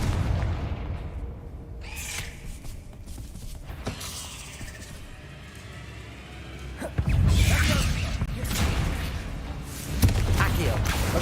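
A Confringo fire spell explodes in Hogwarts Legacy, with booming, crackling blasts and debris over a steady game soundscape; a voice speaks at moments.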